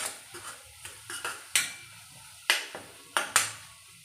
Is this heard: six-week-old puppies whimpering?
no